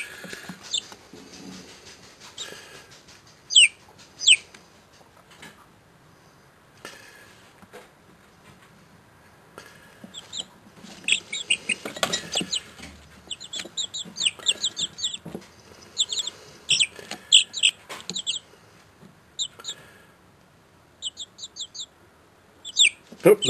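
Chickens cluck and peep in scattered bursts, with short chirping calls clustering through the second half, fairly close and moderately loud.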